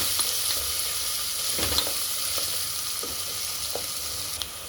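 Ginger and garlic fry in hot oil for a mutton curry, a steady crackling sizzle that runs without a break, with a few soft stirring scrapes over it and no voices.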